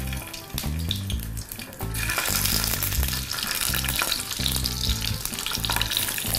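Peppers frying in a pan after potatoes, a loud continuous sizzle with stirring clatter throughout, close and steady, with no talk.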